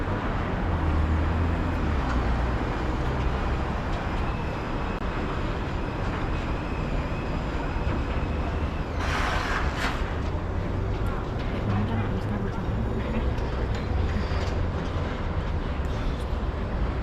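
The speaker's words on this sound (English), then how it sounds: "Bus turning, bus is turning" A city bus turns on an early-morning street along Arch Street, a loud constant engine and road rumble close by, with a brief hissing burst partway through over the steady traffic noise.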